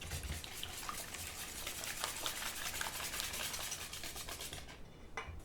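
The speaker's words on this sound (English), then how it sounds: "I'm going to switch to a whisk because I need to whisk this in" Eggs and vanilla whisked in a bowl for a chocolate skillet brownie, a quiet, rapid rhythmic tapping and swishing that runs steadily before stopping abruptly near the end.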